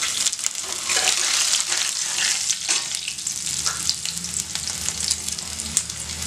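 Garlic cloves and ginger frying in hot oil in a pan, producing a loud, steady crackling sizzle broken by soft stirring scrapes, close up and heard alone.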